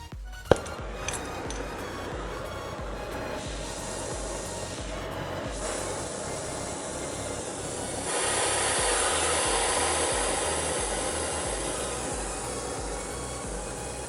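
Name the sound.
oxygen acetylene torch burning with fuel on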